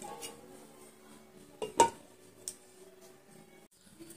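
A metal pot lid lifts off a pan of egg masala with a sharp clink and a few lighter taps, then a quiet scrape, close by in an otherwise hushed kitchen.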